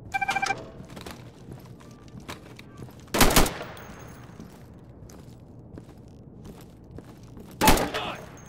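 Two sharp, loud gunshot bursts in the tactical shooter Insurgency during a close-quarters room-clearing exercise against targets, a few seconds apart over a quiet background hum.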